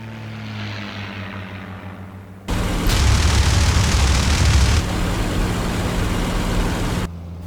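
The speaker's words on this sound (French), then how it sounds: "Quand tout à coup, nous entendons des avions proches." Propeller aircraft, identified as P-51 Mustangs, roar past close overhead in broad daylight along a wartime road; a low engine hum swells abruptly into a loud, dense, sustained drone that holds for several seconds before cutting off.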